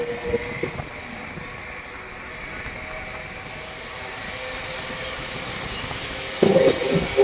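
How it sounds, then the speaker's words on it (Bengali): Steady rumble of a moving train entering a mountain tunnel, growing slightly louder and more enclosed, with a sudden louder roar near the end. "এখন টানেলে প্রবেশ করবে আমাদের ট্রেন"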